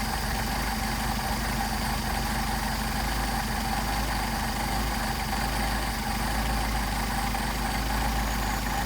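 A Mercedes 190SL engine idles during carburetor adjustment, a steady low rumbling idle heard close up and alone, with a constant throbbing drone and no talking over it.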